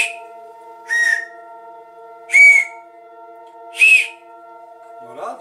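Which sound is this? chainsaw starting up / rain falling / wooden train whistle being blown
wooden train whistle being blown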